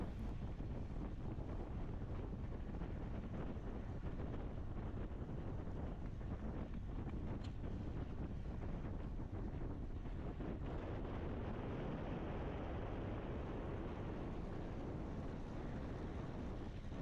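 A strong headwind roars across the microphone during a criterium bicycle race, a continuous loud, buffeting rush of wind noise with no pause throughout.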